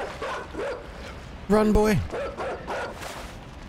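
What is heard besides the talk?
dog barking in video game Inside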